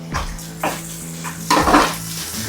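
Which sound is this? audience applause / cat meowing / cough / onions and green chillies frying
onions and green chillies frying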